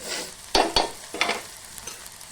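Okra, potato and beans frying in a pan, with a few sharp stirring scrapes and clatters over a soft steady sizzle, close and fairly loud at moments.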